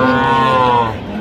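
A cow with her calf at the Ambari cattle market moos loudly and close by, one long sustained low call that tapers off toward the end.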